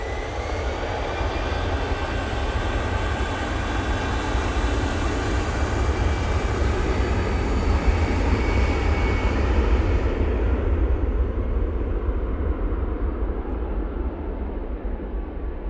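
An airliner taking off from snowy Manchester Airport, bound for Belfast, gives a loud, continuous jet engine roar that stays strong across the whole stretch, its high hiss thinning out toward the end, with no voices.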